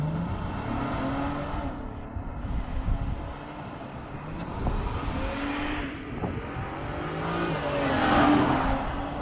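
Honda Passport TrailSport engine revs hard under acceleration, climbing steadily toward redline in rising harmonic sweeps, loud and close with a brief shift dip mid-run and another strong pull at the end.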